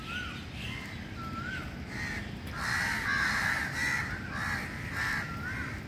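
Crows cawing at a river ghat at a sangam, several harsh caws repeating through the clip over steady low background rumble, with louder overlapping calls in the second half.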